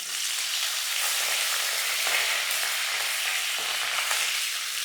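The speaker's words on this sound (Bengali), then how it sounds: "গোলমরিচগুলো যখন একটু একটু চটপট করে আওয়াজ হবে, তখন আমি এর মধ্যে ফুলকপিগুলো দিয়ে দেবো।" Black peppercorns crackle in hot oil in a pan for a cauliflower rezala, giving a close, steady sizzle dotted with small pops and no voices.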